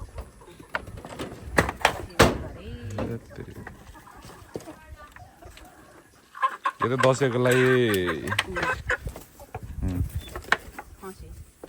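Village chickens cluck and squawk in a burst near the middle, loud and close, with people talking before and after.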